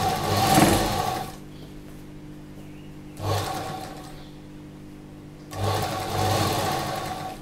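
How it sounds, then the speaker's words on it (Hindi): Domestic sewing machine stitching the seam of a slip (petticoat), with two long whirring runs at start and middle and a third near the end, separated by quieter pauses while the fabric is repositioned. "ऐसे ही हम दूसरी तरफ भी सिलाई लगा लेंगे।"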